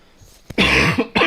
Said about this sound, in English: I've got a bit of a rotten cough that just won't bugger off